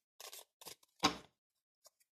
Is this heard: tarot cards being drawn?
yes